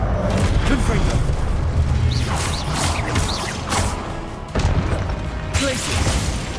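Booming spell blasts and whooshes from the Hogwarts Legacy video game as a Confringo explosion spell is cast, several heavy thuds in quick succession under a player's spoken incantations.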